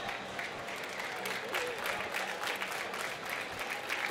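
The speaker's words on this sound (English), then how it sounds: "I think I heard about 4 people in the crowd clap after that one" Scattered applause from a small crowd at a gaming event, a few people clapping steadily for several seconds in a reverberant room under a low murmur.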